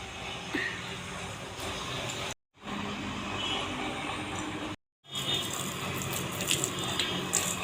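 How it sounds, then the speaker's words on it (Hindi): Water running from household taps, a steady close hiss of flow that cuts out twice briefly and resumes, with a few light splashes and clinks and no talking. "नल तो गए हैं, ये अंदर अंदर पानी आ रहा है।"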